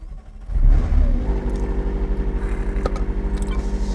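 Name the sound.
McLaren 600LT sports car engine starting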